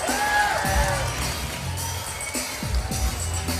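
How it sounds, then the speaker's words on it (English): Crowd at Caesars in Windsor, Ontario booing during a Bellator 64 fight between Ben Askren and Douglas Lima, a broad low murmur of boos heard under an announcer's voice. "Boos from this crowd here at Caesars in Windsor, Ontario."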